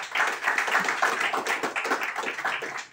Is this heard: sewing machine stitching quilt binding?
no